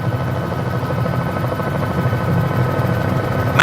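A helicopter flies near Mt. Sedgwick in Tasmania, its rotor thrumming in a steady, loud, close pulsing drone that holds evenly throughout.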